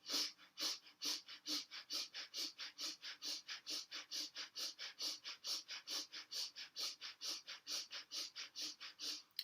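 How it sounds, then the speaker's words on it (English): Breath of fire yoga breathing: rapid, even, forceful nasal exhales pulse at about three per second for the whole stretch, close and steady with no talking. "begin breath of fire or long, slow, deep breathing"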